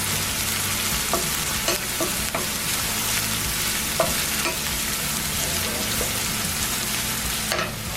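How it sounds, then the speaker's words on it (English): Food sizzling steadily in a generous amount of hot oil for Tsebhi Sga, an Eritrean meat stew, while a spoon stirs and scrapes the pot with occasional clinks; close, continuous frying noise throughout with no talk. "So a lot of oil. And I'm gonna mix it."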